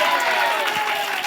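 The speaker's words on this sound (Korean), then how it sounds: "박수로 하나님께 우리 주님께 영광 돌리겠습니다." A church congregation applauds during a Sunday morning worship service, a dense, steady wash of clapping from many hands filling the room.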